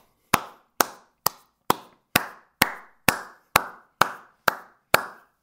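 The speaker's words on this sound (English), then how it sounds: "Let me clap for her." A single person claps hands eleven times at an even, unhurried pace, each clap crisp and close with a short room ring, no voices in between.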